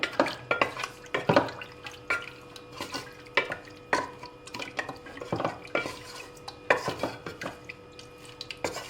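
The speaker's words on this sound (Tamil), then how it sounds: "இது எல்லாத்தையும் நல்லா மிக்ஸ் பண்ணிவிட்டு" Mutton chukka masala with water stirred in a pan, irregular scraping and clinking of a spoon against the metal with soft sizzling, close and repeating in uneven bursts.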